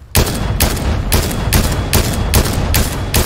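Fortnite gunfire rings out as seven evenly spaced, loud, close shots in quick succession, each a sharp crack with a short tail, with no talk over them.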